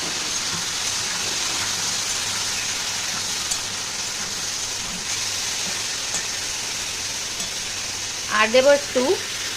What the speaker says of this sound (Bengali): তো এবার এটা ভালো করে একটু নাড়িয়ে দেবো।